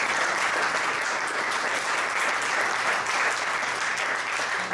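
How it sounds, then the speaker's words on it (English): Audience applause at a poetry jubilee celebration, dense and continuous clapping from a full room at an even, loud level throughout. "A big round of applause."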